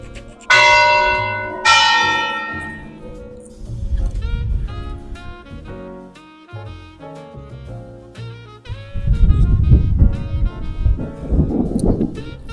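Bells ring out from the university bell tower in Coimbra: two clear, ringing strikes open, then overlapping tolls and chimes continue, with wind buffeting the microphone in places and no talking.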